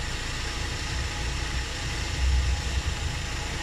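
A Suzuki Every Wagon DA64W with a K6A engine idles steadily and smoothly after its idle air control valve was cleaned, a continuous low rumble that stays close and even throughout with no talk.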